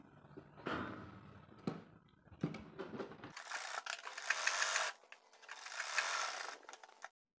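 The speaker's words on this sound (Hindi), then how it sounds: "अब हम मोरी की सिलाई कर लेते हैं।" A domestic sewing machine stitches the hem of a cotton baby girl's top, its rapid mechanical whirring running in two sustained bursts after a few shorter starts, close and steady with no talk.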